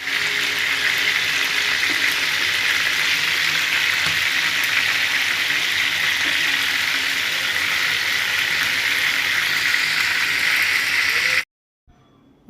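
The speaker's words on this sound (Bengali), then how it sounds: "দেখো অলরেডি আমি পেঁয়াজ বেরেস্তা বসিয়ে দিয়েছি" Onions fry in oil for a chicken roast, a loud, steady, bright sizzle running unbroken for about eleven seconds before cutting out abruptly.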